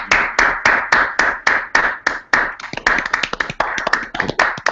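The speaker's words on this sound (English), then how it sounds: "Let's give a little applause," Small audience claps after a lecture presentation. It starts as slow, evenly spaced, crisp claps close by, then quickens into denser overlapping clapping from several people.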